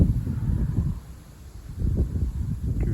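Strong southeast wind gusts at night buffet the microphone in low, rumbling surges that ease briefly before returning, steady roaring bluster with no voices.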